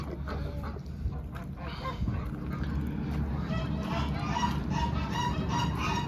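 Farm ducks and geese honk and quack beside a frozen pond in very cold weather, a continuous flock chatter with overlapping calls growing busier toward the end.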